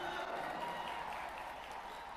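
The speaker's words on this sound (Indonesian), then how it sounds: "Tepuk tangan kasih ibu-ibu dulu." An audience applauds the mothers at a community gathering with religious leaders in Papua, a dense, steady wash of clapping that holds evenly throughout.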